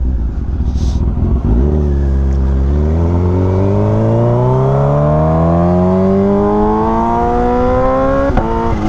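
A Kawasaki Ninja H2 sport motorcycle with new upgrades accelerates hard while being ridden. The engine note climbs in one long, rising pull, loud and close to the microphone.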